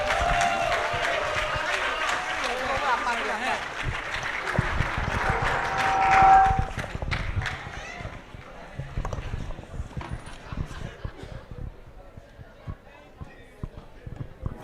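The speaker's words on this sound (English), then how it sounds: "Another round of applause for them." A school audience at a presentation event breaks into dense applause that holds for several seconds and then fades, leaving scattered claps while a voice talks.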